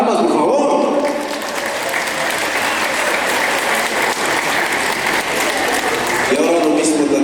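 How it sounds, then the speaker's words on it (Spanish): Wedding guests clap together in loud, sustained applause, with voices in the crowd at the start and end. "¡Palmas, por favor!"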